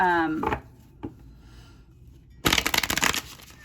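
Oracle cards are shuffled in quick bursts, a brisk riffling clatter near the end after a brief vocal sound at the start and a single tap.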